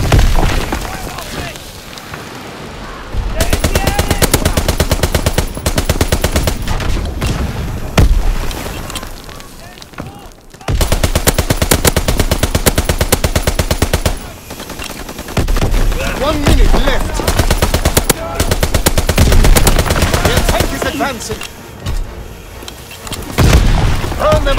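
Machine gun fire in Call of Duty: WWII, loud rapid bursts of automatic gunfire mixed with booming explosions, near and dense with brief lulls, while voices shout over the battle.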